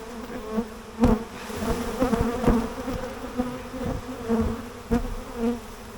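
Bees buzz continuously around burr comb from a hive, a dense, steady drone with several louder passes close by, no speech.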